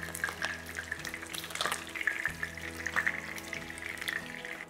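Chicken pieces frying in a pan until golden for an Arabic rice dish, a quiet continuous crackle and sizzle with faint kitchen clinks, heard up close without speech.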